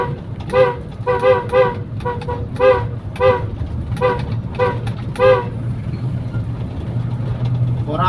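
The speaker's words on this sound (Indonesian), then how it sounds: "untuk klakson saya itu klakson keong punya Innova, punya bawaan Innova" A snail-type horn taken from a Toyota Innova, wired with a capacitor, sounds as a series of short, loud toots in an irregular rhythm, some doubled, with an engine idling steadily underneath and no talk.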